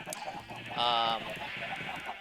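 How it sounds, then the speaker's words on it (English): A chicken in Minecraft gives a brief squawking cluck amid a steady background hum and faint game noise. "There's chickens trapped underground because of the ocelots."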